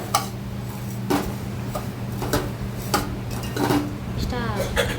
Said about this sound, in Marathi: आता शेवई टाकून घेतली ते सगळं मिक्स करून घेते